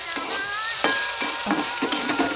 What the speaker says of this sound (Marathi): आता मी याच्यात टाकत आहे 1 चमचा साजूक तूप.